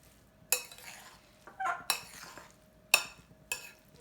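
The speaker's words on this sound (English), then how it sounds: "we're going to stir all this together until it's" A spoon stirs seasoned ingredients in a bowl, giving four or five sharp, close clinks and scrapes at irregular intervals with quiet pauses between, and no voice.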